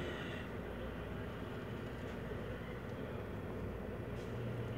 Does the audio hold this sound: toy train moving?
yes